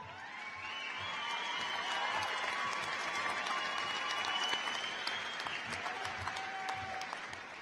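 Applause rises from the crowd at the Shadle Park High School 2016 graduation after a row of names is read, a distant, hall-filling clatter of many hands with occasional whistles, swelling quickly and then thinning toward the end.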